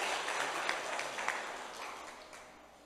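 Applause from a church congregation during a service, a soft, dense patter of many hands that gradually fades away.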